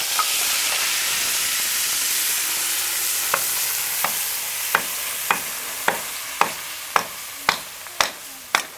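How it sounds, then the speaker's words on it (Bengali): Paste of ginger, garlic, onion, chili and tomato hits a hot pan, giving a steady sizzling fry with a growing series of sharp spatters and clinks of stirring toward the end; no talking. "পেস্টটা এবার দিয়ে দিচ্ছি। দিয়ে দিই।"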